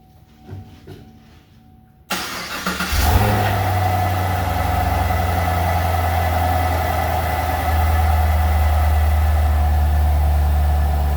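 A car engine turns over and fires up loudly, revving briefly before settling into a strong, steady running hum, close by with no talking.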